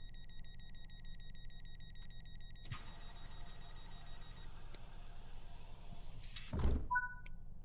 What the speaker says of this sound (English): So let's lock the doors.